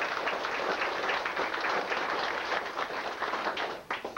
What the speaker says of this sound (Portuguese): Os trombonistas, uma salva de palmas para eles.